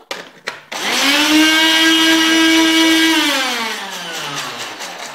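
Homemade mayonnaise being whipped as oil is trickled in slowly, an electric mixer or blender switching on after a couple of clicks and whirring loudly and steadily, its pitch sagging slightly as the mixture thickens.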